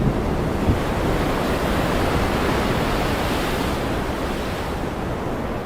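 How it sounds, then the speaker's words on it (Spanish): A stormy sea roars with crashing waves and howling wind, a dense, loud, continuous wash of noise with no voices. "gritó contra el rugir de la tormenta"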